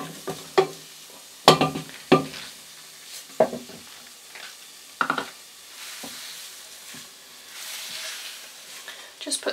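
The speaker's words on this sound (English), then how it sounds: "very gently fry it a little bit in the bottom to seal in the flavours of the bits of potato we've cut and the onions" Potato and onion pieces fry gently in oil at the bottom of a pan for nettle soup, a soft sizzle punctuated by scattered stirring clicks and pan knocks, close and moderately loud.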